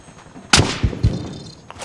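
Gunfire in a video game: a sharp shot followed by two or three quicker, duller reports close together, then quiet background, no talk.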